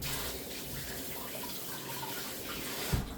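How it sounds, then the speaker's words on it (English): Running tap water splashes over hands being washed at a kitchen sink, a steady close wash with a brief louder knock near the end. "I just washed my hands. Just gonna wash them 1 more time again."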